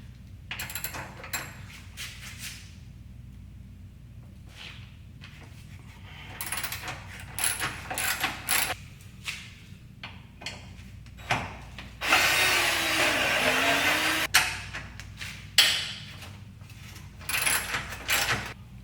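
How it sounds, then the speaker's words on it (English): A tight 12mm bolt is worked loose on the hood latch of a fourth-generation Acura TL. Sharp metallic clicks and taps come at irregular intervals, with a short burst of ratcheting wrench noise in the middle, close and fairly quiet. "This one is a 12mm bolt. Wow, this bolt is in there tight."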